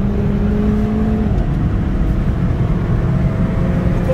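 Car engine revving high, a loud sustained roar with a rising whine that shifts pitch mid-way as the gear changes automatically, close and strong with no speech.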